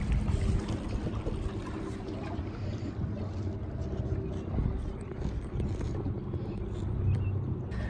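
A boat's trolling motor runs at half power, giving a steady low hum under broadband wind and water noise, fairly faint and continuous throughout.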